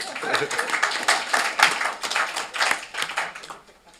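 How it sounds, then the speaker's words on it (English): Dense clapping from a group at a board meeting, a steady round of applause that holds for a few seconds and then tapers off. "I think you're going to get another round of applause."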